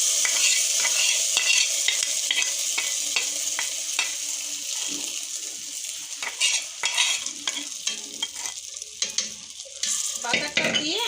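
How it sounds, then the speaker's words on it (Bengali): Ginger, cumin and panch phoron tempering, fried and poured into traditional Punjabi saag, sizzles steadily and loudly, with spoon scrapes and clicks of stirring breaking through the hiss from start to end. "এখন দিয়ে দিচ্ছি বাগারটা"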